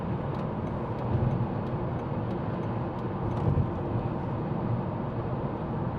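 A 2013 Volvo V40 Cross Country 2.0 D3 diesel cruising at 70 on a motorway gives a steady, dense drone of engine, tyre and wind noise that stays even throughout, with a few faint ticks on top.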